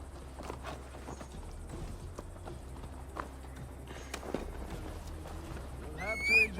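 Horse hooves clip-clop at a steady ride gait in Assassin's Creed Valhalla, continuous and moderately close beneath ambient game noise, with a brief whinny-like rising call near the end.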